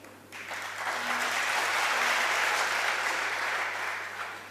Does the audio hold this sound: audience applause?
yes